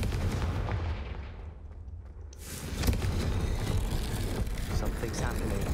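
A Hogwarts Legacy Confringo fire spell bursts with a loud, rumbling blast in a dark corridor, swelling midway and sustaining a roaring crackle afterward, with voices present.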